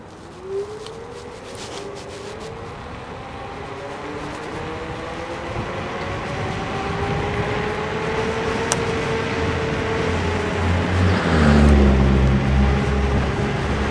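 Gotrax Ares electric scooter running downhill in dual motor mode, a steady rising whine with drifting motor tones over rushing wind noise that builds toward the end, close and continuous with no talk.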